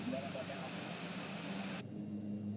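Steady turboprop drone from a Mitsubishi MU-2 aircraft in Microsoft Flight Simulator 2020 during cruise, a constant loud engine hum with a faint tonal whine, cutting to a softer cabin tone near the end, with a voice talking over it.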